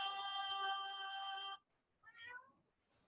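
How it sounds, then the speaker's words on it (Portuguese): A female cat meows loudly indoors during a lesson, one long drawn-out harmonic cry followed by a shorter rising meow after a brief pause. "eu já comecei a aula 3 vezes por causa dessa gata miando"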